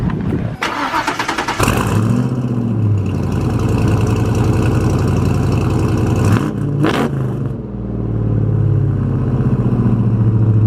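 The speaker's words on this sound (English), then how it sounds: "As like every other Mustang video, you gotta start it with a cold start" A Ford Fox Body Mustang convertible cold-starts, cranking briefly before catching. It then settles into a loud, steady idle with a slight dip and recovery in engine note, close by.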